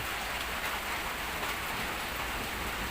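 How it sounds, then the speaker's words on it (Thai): Heavy rain pours down in a dense, constant hiss, loud and unbroken throughout. "ฝนตกต่อนกไม่ได้ครับ"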